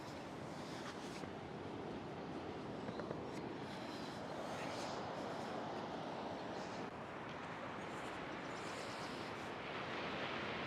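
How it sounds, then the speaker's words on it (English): Ocean waves washing onto the shore at an outdoor spot reached on foot, a steady broad roar of surf with some wind rumble, continuous and fairly close, with no voices. "the beautiful sound of the ocean behind us"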